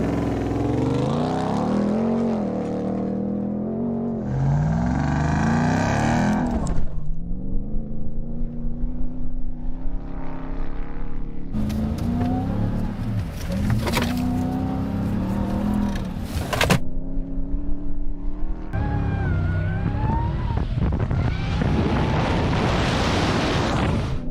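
A truck revs and bounces across obstacles on a dry lake bed in a gymkhana-style run, with loud engine surges rising and falling, rough thumps and clatter, and bursts of wind or dust noise close by.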